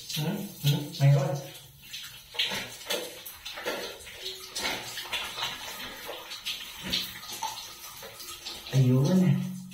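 Shower water runs and splashes in a bathroom, a rushing, uneven spray close up that swells and fades, with a person talking over it at times.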